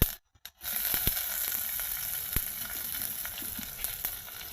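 Sliced big onions fry in a pan as the base for a crab sambal, a steady close sizzle that starts after a brief silent gap, dotted with a few sharp clicks of a utensil against the pan.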